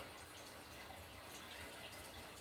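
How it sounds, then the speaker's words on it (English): Coconut milk pours from a can into a blender, a soft steady liquid gush and trickle heard close and alone, fairly quiet throughout. "So let's add the milk"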